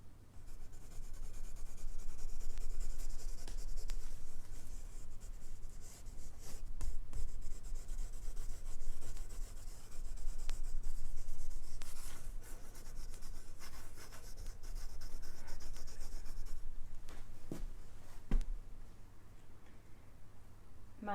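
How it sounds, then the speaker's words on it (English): Pencil sketching on paper: steady close scratching and rubbing strokes continue throughout, with brief pauses and small ticks of the pencil lifting, and almost no talk. "it's very great to watch you sketching so uninhibitedly, as she agonises over every pencil stroke."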